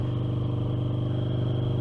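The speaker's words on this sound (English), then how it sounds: "Riding on a bike like the Harley Davidson Night Rod." A steady, pulsing engine rumble from a custom Harley-Davidson V-Rod Night Rod cruising along a coastal road, heard up close and continuous with no talking.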